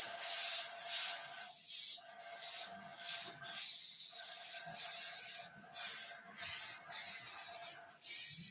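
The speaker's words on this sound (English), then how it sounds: "All right, time to airbrush away again." An airbrush sprays weathering onto an E-flite A-10 Thunderbolt II model in repeated bursts of close, airy hissing, each about half a second to a second long, separated by brief pauses.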